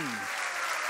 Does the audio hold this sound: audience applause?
yes